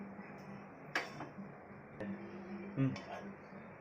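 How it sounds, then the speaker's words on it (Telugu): A pan is set down on a kitchen stove while cooking palak paneer, with a few light metallic clinks and knocks, one sharper clatter near the end, heard quietly beneath a voice. "సో ఇప్పుడు ఏం చేద్దామంటే నేను ప్యాన్ పెట్టుకున్నాను"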